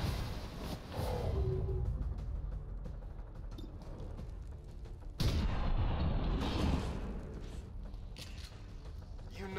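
Gunfire and artillery bursts in XCOM War of the Chosen, heavy booms and rattling shots against mechs, landing in irregular clusters with a sharp loud hit midway, under a low background of game noise and occasional talk.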